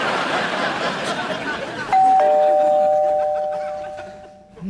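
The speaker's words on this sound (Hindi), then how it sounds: "नीचे घंटी बज गई, मेहमान आते होंगे" A two-tone doorbell chime rings out clearly over a busy, noisy room background, its tones lingering and slowly fading.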